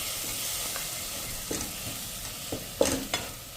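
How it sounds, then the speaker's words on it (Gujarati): Tomato puree goes into a hot pan with no oil or ghee and is stirred: a steady close sizzle with a few sharper stirring scrapes and spoon knocks over it. "હવે આપણે આ જે ટમેટાની પ્યુરી કરી છે ને એ આપણે નાખી દેશું"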